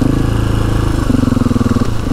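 A motorcycle engine runs steadily while riding through floodwater, with a constant low drone that rises in a pulsing throb midway, close and fairly loud.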